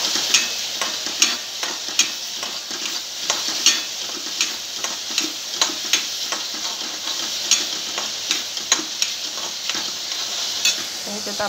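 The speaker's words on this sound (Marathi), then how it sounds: "आता भाजून घ्यायचा चांगला." Masala roasts for chole, sizzling steadily in a hot pan as a spoon stirs it, with rhythmic scraping and tapping strokes over the continuous fry.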